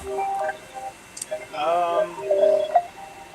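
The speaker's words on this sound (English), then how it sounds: "Phone call." Telephone dialing tones in a studio setting, a series of short, close beeping tones in an uneven rhythm, mixed with voices talking over and around them.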